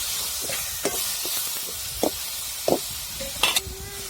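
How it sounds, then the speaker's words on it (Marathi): Sprouted horse gram usal being stirred and sautéed in a pan, with a soft steady sizzle and a few scraping stir strokes against the metal spaced across the moment. "हे थोडंसं हालून घेऊ हे म्हणजे चांगलं परतून द्यायचं"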